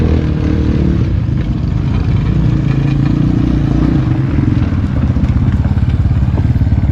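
Dirt bike engine chugging steadily at low revs through slow wheelies, a close, continuous rough idle-level drone with faint crackle and clatter running the whole time.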